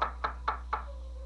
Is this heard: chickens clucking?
no